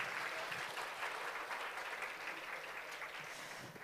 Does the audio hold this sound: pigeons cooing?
no